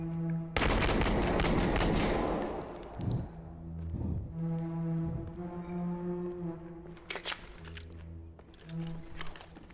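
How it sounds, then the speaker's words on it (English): Gunfire in a game built in Unreal Engine: sharp shot bursts over a steady droning tone, with loud volleys early and scattered shots continuing through the clip, no talk. "Shots fired! Shots fired!"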